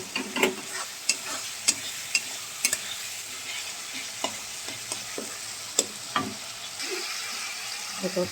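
Masala fries in oil in a pan for aloo dum before the potatoes go in, with a close, continuous sizzle broken by a dozen or so sharp spoon scrapes and stirs at irregular intervals.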